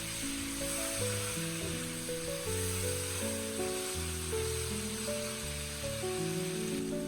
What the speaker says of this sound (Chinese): 我们再加入提前切好的姜蒜末，开大火翻炒均匀，把香干豆腐炒出蒜香味